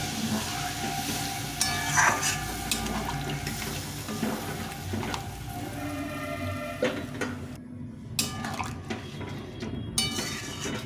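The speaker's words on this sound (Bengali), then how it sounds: "এখন এটা জল দিয়ে দেবো দিয়ে স্বাদ মতো মিষ্টি দিয়ে দেবো একটু বেশি করে জল দেবো" Water is poured into a cauliflower curry gravy in a pan, a soft continuous splashing and trickling with faint clinks, close and moderately quiet, with no talk.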